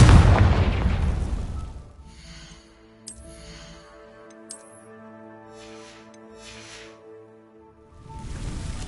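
Bombarda and Confringo spell blasts in Hogwarts Legacy: a heavy booming explosion at the start fading into a sustained musical tone, then another rumbling blast near the end.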